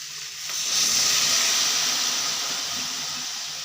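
Water poured into hot frying spices and vine greens in a pan, giving a loud, steady sizzle that swells and then slowly settles into a continuous hiss.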